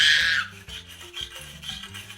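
A brush scrubs a toilet bowl in quick, repeated rubbing strokes, close and moderately loud, with faint background tones underneath.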